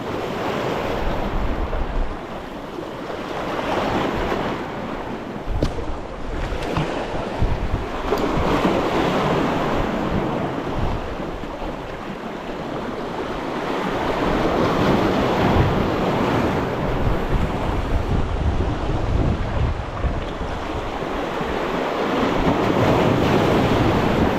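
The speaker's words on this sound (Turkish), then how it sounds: "Çok dalga var ama." Sea waves roll and wash continuously onto a shore during a fishing outing, a loud, broad surf roar mixed with gusting wind noise on the microphone.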